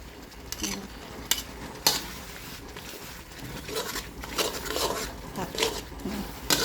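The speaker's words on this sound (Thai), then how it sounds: "เราผัดจนแห้งนะจ๊ะ" Wild boar meat stir-fried in a pan until dry, with a steady sizzle and repeated scraping and clanking of a utensil against the pan, close up.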